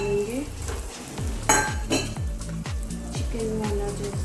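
Fried egg gets stirred into sizzling chicken fried rice in a pan, giving a steady loud crackle with rhythmic scrapes and clanks of the spatula against the metal.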